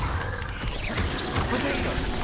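Incendio fire spell cast in Hogwarts Legacy during a fight with spiders: a short, swirling whoosh with bright magical sweeps and clanks over busy combat noise.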